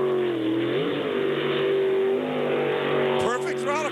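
A powerful jet boat engine roars steadily during a race, with pitch swings as the throttle is worked, ending in a sharp rising whine; a voice talks over it.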